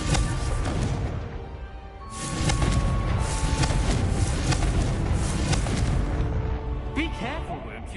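Confringo spell explosions in Hogwarts Legacy, a series of loud booming blasts with crackling bursts and rumbling tails, dense and continuous with a brief dip, game effects layered over background music.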